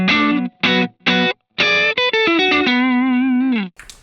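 Electric guitar played through Positive Grid BIAS FX 2 amp simulation: a few short, choppy chord stabs, then a sustained phrase of bent and vibrato notes ringing out with distortion, chorus and a little reverb, loud and upfront with no talking.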